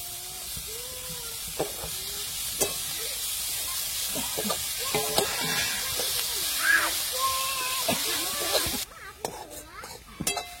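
Finely chopped fresh coriander sizzles and hisses as it is stirred into fried masala for crispy coriander vadi, a steady frying hiss with scraping and clinks, a voice talking over it.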